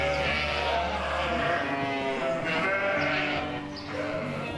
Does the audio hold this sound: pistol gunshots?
no